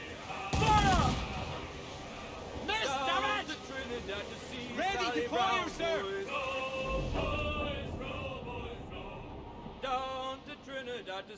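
Ship cannons fire during a naval fight in Assassin's Creed IV Black Flag. A heavy boom comes early and another later, and shouting voices overlap much of the battle noise.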